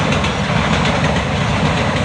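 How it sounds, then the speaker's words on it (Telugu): A train rumbles past close by on the Mangalore–Bombay line, loud and steady, with a continuous roar of wheels on rails. "ఇక్కడ రోజుకి 10 నుంచి 20 వరకు ట్రైన్లు వస్తూ ఉంటాయి, పోతూ ఉంటాయి."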